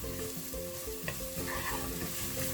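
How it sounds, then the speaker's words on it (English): Onion and carrots stir-frying in a pan, a steady close sizzle with soft scraping and stirring clicks from a utensil throughout, no voices. "I'm gonna stir fry a little while adding some salt."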